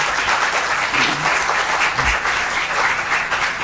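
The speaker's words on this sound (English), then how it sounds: "I request all of you to give a big round of applause for this organizing committee." An audience at an anesthesiology congress plenary session in Peshawar gives a big round of applause for the organizing committee, dense continuous clapping at an even, fairly loud level throughout.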